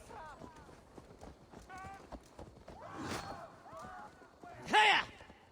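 Horse hooves clip-clopping in the Viking-era game Assassin's Creed Valhalla, a steady rhythmic beat under game dialogue and music, with a louder thump near the end.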